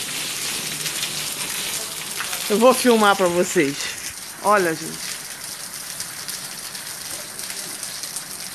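Water pours and splashes steadily out of a household water tank being emptied for cleaning, a continuous rain-like hiss running throughout while someone speaks briefly over it.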